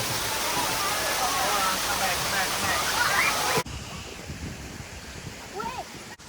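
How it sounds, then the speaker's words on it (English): Indian Cliff Falls, a 150-foot waterfall at Dogwood Canyon Nature Park in Missouri, roars as a dense, steady rush of falling water, then drops abruptly to a softer, more distant wash. "Indian Cliff Falls is a 150-foot waterfall."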